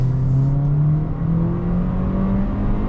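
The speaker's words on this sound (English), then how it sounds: "full throttle" A 2022 Toyota Corolla Cross XLE AWD engine accelerating at full throttle, a steady loud drone rising in pitch across about three seconds, heard from close with no talking.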